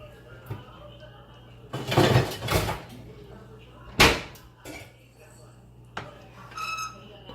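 A pot of green chile stew gets its lid set on, a couple of clattering metal knocks and a clear clank standing out amid kitchen handling noises, with a person talking.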